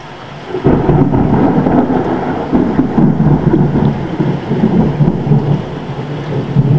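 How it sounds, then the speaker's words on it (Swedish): Heavy thunder rumbles and rolls continuously through a steady downpour of rain during a morning thunderstorm in southern Sweden, loud and close with no clear gaps. "Regnet börjar avta nu. Men där kommer en blixt, om ni såg den."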